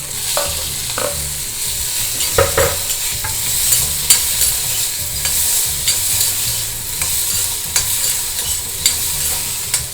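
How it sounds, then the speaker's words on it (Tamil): Apple pieces, curry leaves and urad dal sauté in a hot pan for apple kootu, with steady close sizzling and repeated scraping stirs of a spoon against the pan, no voices. "கருவேப்பிலையும் சேர்த்துக்கலாம். சேர்த்துட்டு ஆப்பிளை லைட்டாக வதக்கிக்கலாம்"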